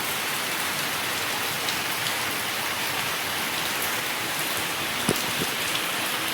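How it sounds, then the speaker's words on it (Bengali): Heavy rain pours steadily outside a home, a dense, loud, unbroken hiss of drops with a couple of faint knocks near the end. "ভালো জোরে বৃষ্টি পড়ছে"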